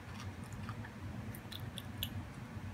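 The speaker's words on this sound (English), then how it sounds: "So it's like carbonated candy. They're popping in my mouth." A handful of small, mint-like Japanese carbonated popping candies crackles faintly in a mouth during quiet, close chewing, with tiny scattered pops over soft squishy mastication and no talking.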